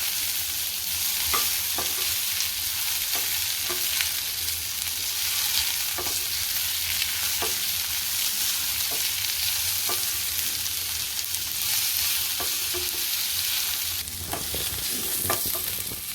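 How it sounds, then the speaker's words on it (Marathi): Sliced onion sautés in hot oil until golden for a spicy misal, giving a constant close hiss of sizzling broken by light, regular spatula clicks against the pan. "थोडं गोल्डन रंगावरती आपल्याला कांदा परतून घ्यायचा आहे।"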